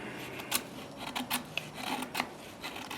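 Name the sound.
ESEE 3 knife carving fine wood shavings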